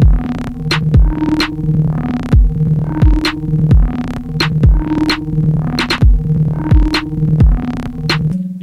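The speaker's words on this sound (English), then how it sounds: "I have created an automation clip for the dry wet for the pitch, which will be low. Now let's play that." A programmed hip-hop beat in the Metro Boomin style repeats in steady bars of deep bass hits and crisp percussion, with its pitch automated low and a dry/wet effect sweeping over it, loud and close with no voices.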